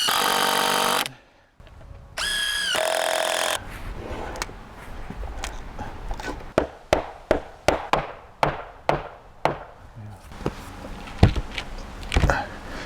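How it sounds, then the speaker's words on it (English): A power driver sinks 4-inch screws into the floor joists of a DIY cabin, with a series of sharp, loud bursts in quick irregular succession after a few seconds of steady machine whine at the start. "I'm just running those 4-inch screws"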